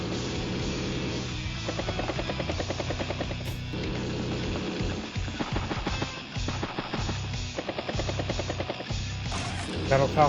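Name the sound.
battlecopter helicopter unit in Advance Wars: Days of Ruin video game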